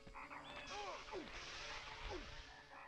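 Dragon toads croak in the PS1 game MediEvil, several warbling, rising croaks spaced over a few seconds amid clattering in-game action, with some talk underneath.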